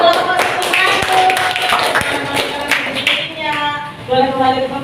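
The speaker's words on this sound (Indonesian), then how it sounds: "Oke, tepuk tangan untuk kelompok suku Melayu." A classroom group of students claps for a group presentation. The sharp, uneven claps are close by, and voices chatter over them as the clapping thins out.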